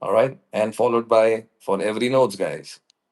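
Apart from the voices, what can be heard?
No everyday noise stands out behind the speech.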